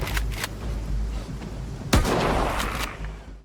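Gunfire in a survival shooter video game set among abandoned buildings, with a few sharp reports early on, then a heavier blast near the middle that leaves a rumbling, echoing tail as it fades.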